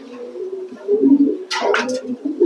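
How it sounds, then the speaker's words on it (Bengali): A large white male pigeon for sale coos softly and close by in low throaty phrases, with a brief rustle of wings or handling midway. "তো দেখার মতো একটা কবুতর ভাই"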